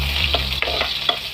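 Sliced onion sautéing in hot oil, a bright continuous sizzle close to the pan with a few quick spatula stirs scraping through it, and no talking.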